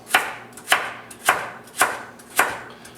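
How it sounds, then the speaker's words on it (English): A knife chopping down through celery on a cutting board, six crisp, evenly spaced thuds close by with no talk. "I like a little bit of celery in mine. Split it down the middle."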